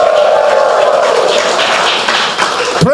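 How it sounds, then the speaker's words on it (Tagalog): Church congregation applauding with cheers, a dense steady wash of clapping and crowd noise that holds throughout and fades slightly near the end. "Palakpakan! May kasamang hiyawan naman!"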